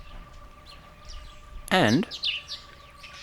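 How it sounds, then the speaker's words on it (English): Yellow-billed hornbill calling outdoors on a big-game drive: one loud, close burst of clucking, harsh notes lasting about a third of a second, with fainter bird chirps and a steady hum in the background. "That noise there? Yellow-billed hornbill."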